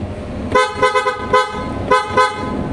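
PIAA aftermarket car horn fitted to a Hyundai Accent sounds in four loud, close, bright blasts, each short and sharply tonal, separated by brief gaps.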